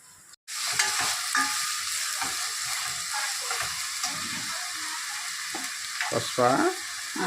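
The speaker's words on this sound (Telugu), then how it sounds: "ఇలా ఉల్లిపాయ వేగుతున్నప్పుడు మసాలా వేసేసుకోవాలి" Onions frying in a pan with spices added for a chicken curry, a steady close sizzle with occasional stirring scrapes and clinks, loud and continuous without speech.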